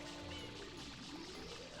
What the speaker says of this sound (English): You essentially spray water at that to rotate it